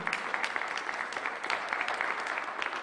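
Moderate applause from an audience at a nursing lecture session, many hands clapping steadily at a middle distance for a few seconds.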